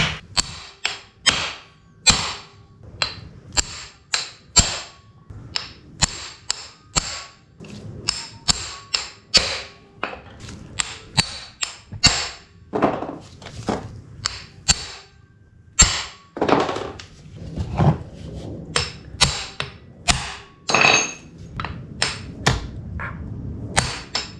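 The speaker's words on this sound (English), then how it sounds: "start loosening up every bolt on the side here, and we'll take our impact driver to do that" Impact driver loosening bolts on a 1985 Yamaha: repeated short bursts of sharp rattling hammering, each lasting a moment with brief pauses between, loud and close over about twenty seconds.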